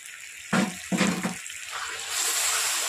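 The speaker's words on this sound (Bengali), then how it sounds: "এটা আমি হালকা পরিমাণ জল দেবো, হালকা জল দিলাম" A little water poured into a cooking pot on a gas stove while making a sweet tomato-date chutney, heard as two short splashing pours close by, followed by a steady faint hiss.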